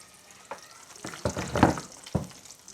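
Garlic sizzling in a pan while a spoon stirs it, with soft scraping strokes and a few sharper clacks against the pan over a steady low frying hiss, close and moderately loud.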